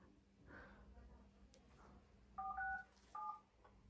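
Telephone keypad tones as a number is dialed: two short bursts of paired DTMF beeps, close and clear, over a low background hum.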